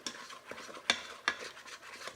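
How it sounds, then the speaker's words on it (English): A spoon stirs boiling banana jam in a pot, with soft scraping strokes and a couple of sharper clinks against the pot, quiet and close. "let's give it a stir"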